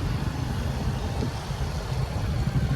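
A car engine idles with a low, steady rumble close by while parking outside a D-Mart store, with no talk over it.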